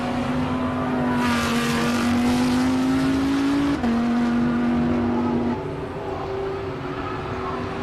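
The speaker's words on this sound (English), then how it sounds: "Let's just listen to this Lamborghini." A Lamborghini Huracan Performante Super Trofeo race car at a hillclimb, its engine droning loudly and rising in pitch, with quick upshifts easing through the gears as it pulls away, no voices over it.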